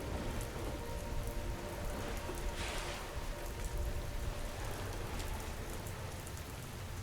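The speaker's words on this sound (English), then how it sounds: "The rain is still there." Steady soft rain falls without a break, an even, close hiss of drops on surfaces that holds the same level throughout, with no voices.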